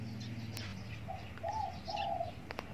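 A spotted dove coos in a few soft, rounded phrases at moderate distance, set against a low steady background hum and a couple of faint clicks.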